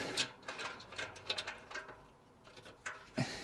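A spanner tightens bolts on a cheap garden lounge set, giving quiet, close metallic clicks and ratcheting taps in an irregular rhythm with brief pauses; no talking.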